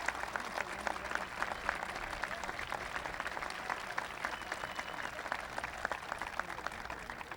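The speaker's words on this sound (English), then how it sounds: "Would you give him a big round of applause?" A large outdoor audience at a 1996 President Clinton event at the Presidio in San Francisco gives a steady, dense round of applause that holds for the whole stretch without easing off.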